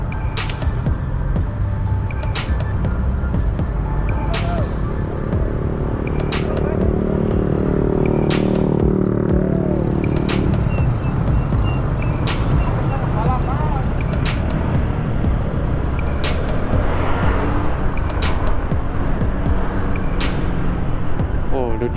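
Heavy roadway traffic in an Indonesian jam, heard from a moving motorcycle: a loud, constant rumble of engines and road noise with a passing engine swelling midway, while riders chat over it throughout.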